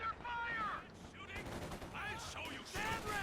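Rapid bursts of small-arms and machine-gun fire crackle through a Company of Heroes 2 battle, layered with dense game effects and a commentator's voice over the shooting.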